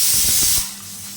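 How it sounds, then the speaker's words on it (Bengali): A pressure cooker boiling sambar vegetables lets out a loud, steady jet of hissing steam up close, with a few low gurgling pulses beneath before the hiss eases to a softer rush. "প্রেসার কুকারে কি আওয়াজ"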